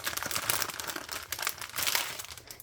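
Crinkly plastic wrapping rustles steadily as a gift box from an unboxing is opened, a close continuous crackle with no voices.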